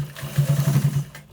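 A sewing machine stitches a white trouser with lace tucked inside the seam, giving a short run of quick, even pulsing stitches close by, about a second long, with no talk.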